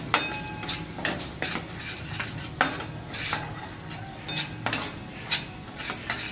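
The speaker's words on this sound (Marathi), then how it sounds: "मस्त मिक्स करून घेऊ आपण याला" A spoon scrapes and clacks in a pan as shev bhaji is mixed with red chili powder, making a string of irregular, close stirring knocks over a soft, continuous frying sizzle, with no one talking.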